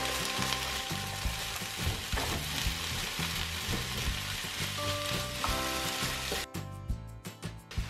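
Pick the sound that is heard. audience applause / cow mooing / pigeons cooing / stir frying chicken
stir frying chicken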